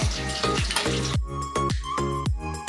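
Fish pieces frying in oil in a home kitchen pan, a steady close sizzle broken by a series of sharp, regular clatters from a utensil or lid, with no talking.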